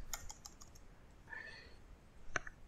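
Quiet computer keyboard typing during a Windows 10 setup in EVE-NG, a few sparse clicking keystrokes with a sharper tap near the end, faint and close over low room hiss.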